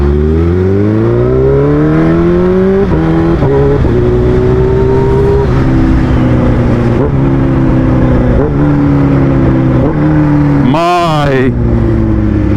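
A Kawasaki H2 motorcycle engine pulling up through the gears on a road in Santa Monica, California. Its loud, close rising whine drops at each shift, and wind noise surrounds it, with a sharp high blast near the end.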